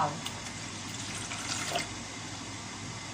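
Plain water splashes steadily into a mixing bowl during preparation of Thai chive dumplings, a soft continuous pour heard close up with faint clinks.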